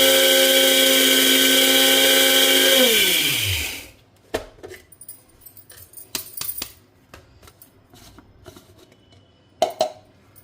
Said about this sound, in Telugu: ఇంక నేను వీటన్నింటినీ కూడా గ్రైండ్ చేసుకుంటున్నా.